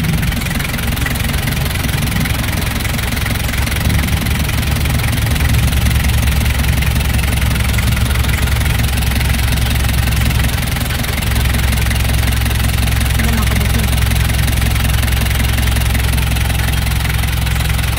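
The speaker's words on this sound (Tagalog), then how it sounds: "Tingnan natin yung engine." A surplus Japanese engine idles steadily and loudly up close, a constant low rumble with a slight knocking texture running through the whole stretch, no voices over it.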